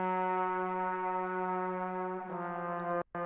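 A trombone harmony layer holds one long, steady note, then moves to a new pitch near the end before stopping abruptly, alone and close.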